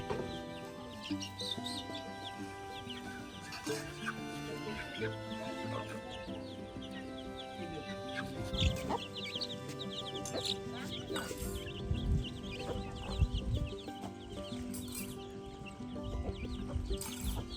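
Chickens cluck and chatter nearby while being fed cooked rice, their calls scattered through the whole stretch as people talk over them.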